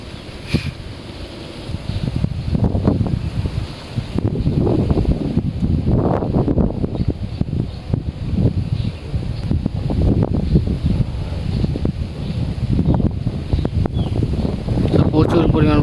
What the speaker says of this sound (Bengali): প্রচুর পরিমাণ বাতাস, তো বাতাসের কারণে বোঝাও যায় না যে আসলে মাছে বড়শি খাচ্ছে কিনা